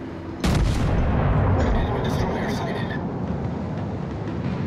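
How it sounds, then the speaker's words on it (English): Naval guns in World of Warships fire at an enemy warship with one sudden heavy boom that rolls into a long, loud rumbling decay while battle noise continues. "Concentrate fire on the enemy warship."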